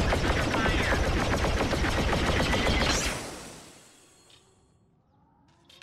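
Rapid sustained blaster fire from the hip in Star Wars Battlefront rattles loudly for about three seconds, then cuts off and fades into a low, quiet tail.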